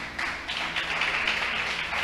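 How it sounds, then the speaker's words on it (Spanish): Applause from a church congregation, a steady wash of many hands clapping that fills the whole moment, loud and continuous with no clear gaps. "Y le dan un aplauso grande al Señor"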